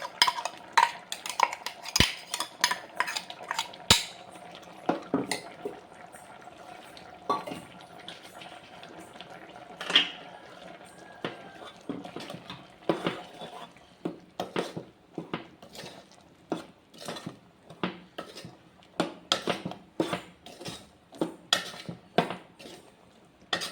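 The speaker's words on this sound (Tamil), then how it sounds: "தேங்காய் அரைச்சி சேர்ந்துருக்குறல்ல, தேங்காய் ஊற்றிக்கலாம்." A spoon clinks against a pot while ground coconut paste goes into a simmering peanut curry, with scattered sharp metallic knocks, stirring and splashing liquid, close and moderately quiet.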